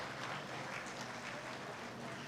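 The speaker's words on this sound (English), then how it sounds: "with a warm round of applause" An audience at the 8th International Conference on World Religions gives a Lifetime Achievement Award recipient a warm round of applause, an even, unbroken wash of clapping heard at a distance and fairly faint.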